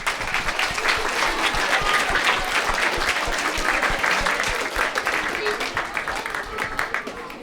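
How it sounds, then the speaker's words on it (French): An audience at a conference on physical activity in Dol-de-Bretagne applauds: dense, sustained clapping from many hands in a hall, loud and steady, slowly thinning toward the end. "on peut l'applaudir aussi"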